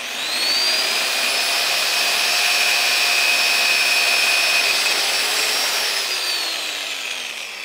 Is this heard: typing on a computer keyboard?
no